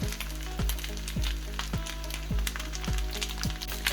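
Green onions hitting a hot pan while chicken chow mein cooks, giving a soft, steady sizzle and fry crackle alongside a regular low thudding pulse, fairly quiet and with no voices.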